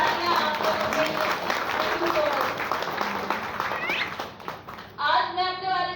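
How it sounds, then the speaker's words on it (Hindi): An audience claps at a stage event, a dense patter of many hands rising and falling for several seconds while a voice speaks over it and music comes in near the end. "आप जोरदार तालियां आप लोगों के लिए"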